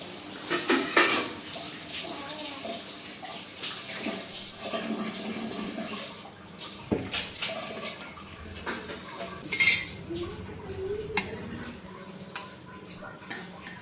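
A pot of cooked fasa fish with long beans comes off a stove, giving scattered metallic clanks and scrapes of cookware at close range, with a few sharper knocks and some quiet handling noise between them.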